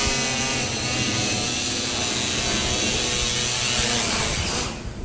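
An FPV hexacopter drone with a broken propeller whines steadily and loudly as it descends, a continuous buzzing rotor drone with a high tone that cuts off abruptly at the end.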